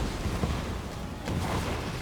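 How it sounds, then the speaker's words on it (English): A Dwarf Flame Cannon fires during a large multiplayer Warhammer fantasy battle against Bretonnians and Beastmen: deep rumbling booms and bursts, heard fairly faint within a dense, continuous wash of battle noise. "that damage from the Flame Cannon"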